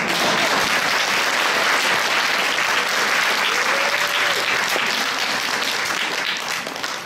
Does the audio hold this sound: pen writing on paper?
no